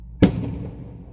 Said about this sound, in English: there was just another firework going off, like bang!